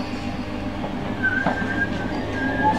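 A train passes near Bethnal Green in London, a steady low rumble with faint wheel squeal and clicking along the rails, heard from close by without anyone talking.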